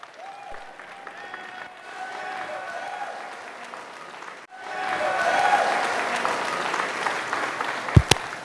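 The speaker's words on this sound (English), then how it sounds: "Applause for Nick Blade." Audience applause for magician Nick Blade at a high school show, a steady clapping that swells louder midway and carries on, with a sharp knock near the end.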